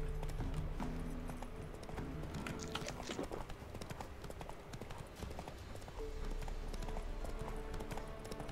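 A horse gallops in the video game Witcher 3: Wild Hunt, its hooves clip-clopping in a fast, steady rhythm throughout with a low game soundscape behind it.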